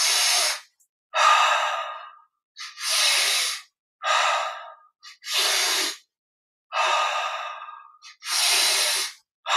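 A person breathes in and out deeply during a foot and ankle exercise, about eight loud, close breaths in a slow, even rhythm with short silent gaps between them.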